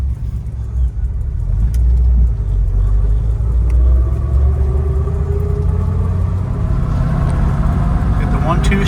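A 1967 Ford Mustang, driven for the first time in about 16 years, rumbles steadily with a low engine drone building as it pulls away, the interior hum constant throughout.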